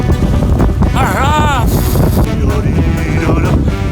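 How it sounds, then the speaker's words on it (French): Gusty wind buffets the microphone outdoors beside a camper truck with a loud, steady roar, joined by passing traffic and a brief rising-and-falling whine. "Il y a du vent!"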